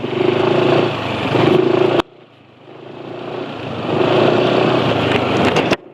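Motorcycle engine running on Seiken SAE 40 diesel oil, a loud close idle with a rough, even chug that cuts out abruptly, returns quietly and swells back to full volume.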